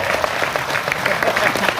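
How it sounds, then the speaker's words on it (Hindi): An audience applauds, many hands clapping together in a dense, steady burst. "तालियों से मुझे आकर्षित करें"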